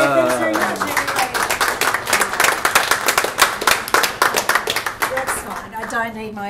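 Audience clapping at a pub comedy show in a Fitzroy hotel: dense, steady handclaps fill most of the clip, with a voice speaking over the start and again as the applause fades near the end.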